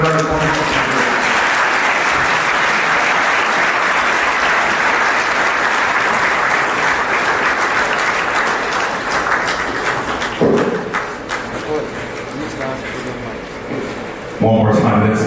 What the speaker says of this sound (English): let's give a round of applause to the Chancellor of Miva Open University